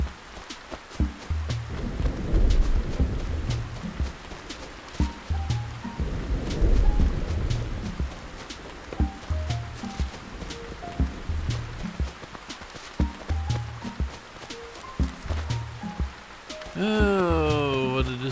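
Steady rain patters and washes through the Animal Crossing video game for a long stretch, with soft surging rumbles and light game music notes scattered on top, ending in a rising chime.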